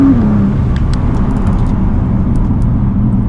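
Nissan GT-R under way, heard from inside as a passenger: a loud, steady engine drone with road roar, a brief rise in pitch at the start, then a constant cruise without talk.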